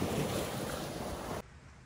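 Ocean waves by the beach make a steady, soft rushing wash mixed with wind buffeting the microphone, then the sound cuts off abruptly near the end.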